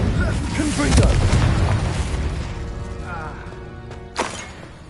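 A Confringo blast spell cast in the video game Hogwarts Legacy: a heavy booming burst near the start that rumbles and decays over several seconds, with a sharp smaller crack near the end.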